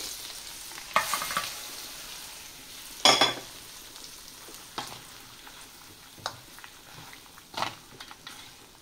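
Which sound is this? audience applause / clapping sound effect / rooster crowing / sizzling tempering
sizzling tempering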